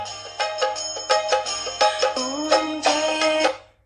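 The Om Jai Jagdish Hare aarti chimes from a talking Gita device as a loud, tinny electronic tune of bell-like notes in a steady rhythm, heard alone and cutting off at the end.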